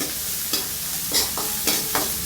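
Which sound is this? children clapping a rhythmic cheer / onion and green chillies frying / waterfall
onion and green chillies frying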